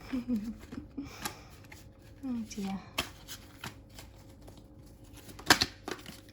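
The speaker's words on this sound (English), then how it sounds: "excuse my shuffling, I'm not a talented shuffler" Tarot cards being shuffled by hand at a quiet table, with soft riffling bursts and a sharper flutter near the end, while a voice speaks briefly.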